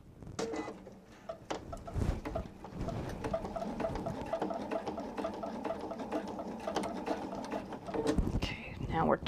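A sewing machine stitches a wallet seam with a fast, even mechanical patter that runs steadily through the middle, while a person talks over it and pauses at the start and end.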